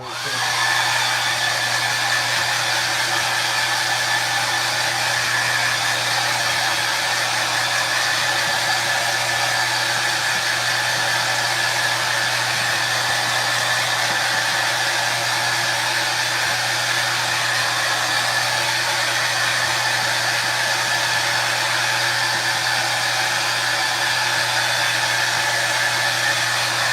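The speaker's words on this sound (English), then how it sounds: "We're gonna hit this with the hairdryer." A hair dryer blows continuously on a screen printing screen, a loud, unbroken whirring roar with a steady motor hum, close by and alone for the whole stretch.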